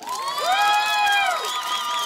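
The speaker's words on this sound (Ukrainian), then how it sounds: "Хто за мужчину, оплески мужчині?" An outdoor karaoke casting audience in a town square shouts and cheers for a male contestant, a brief, dense burst of high voices and whoops, loud and close, with no clear clapping standing out.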